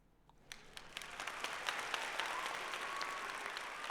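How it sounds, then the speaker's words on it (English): Applause from a crowd builds quickly and keeps going as steady, dense clapping that grows fuller and louder, with no talking over it. "A round of applause?"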